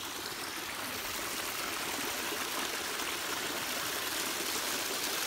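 A mountain stream in the Great Smoky Mountains flows and splashes continuously, a steady broadband rush of water heard close up with no voices.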